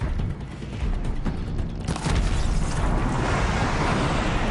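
Shots hitting a robot dinosaur's gullet in a video game set off a loud explosion that swells into a sustained rumbling blast after a few earlier sharp impacts.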